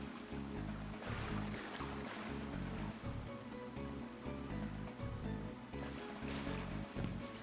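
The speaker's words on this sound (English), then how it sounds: "let's swim back up the waterfall" Swimming up a waterfall in Kingdom Hearts: continuous rushing water with rhythmic sloshing swim strokes, fairly loud and steady, no talking.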